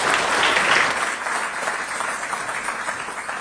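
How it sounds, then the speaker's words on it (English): Audience applause for basketball award nominees at the Mr and Miss PA Basketball Awards, a dense, steady clapping from a large crowd that starts loud and eases slightly over about three seconds. "And again, a nice round of applause for all of our nominees."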